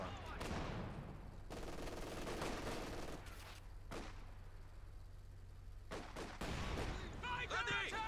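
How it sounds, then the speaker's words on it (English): Machine gun bursts from the Company of Heroes 2 game rattle in sustained volleys with short pauses between them, quiet and layered with other battle noise and a voice talking. "They're running into an MG."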